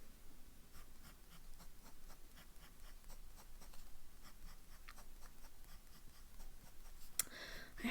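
A broad nib fountain pen writes on paper, giving a quiet, close, rhythmic series of short scratchy strokes that continue steadily, ending with a brief rustle.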